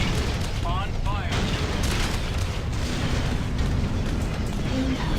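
Torpedo and missile explosions boom continuously in the space combat game Freelancer, a loud, dense rumble of blasts with voices speaking over the top early on.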